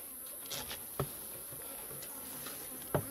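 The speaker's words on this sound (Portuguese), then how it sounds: "Muitos falam que a abelha ela é agressiva." Bees swarm around a hive box, a faint, constant insect buzz close by, broken by a few soft clicks and taps.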